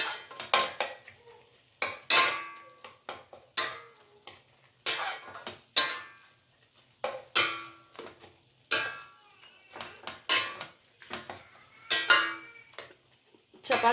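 A spoon stirs cooked tomato gojju in a pan with irregular clinks and scrapes against the metal and a faint sizzle between strokes, close and moderately loud.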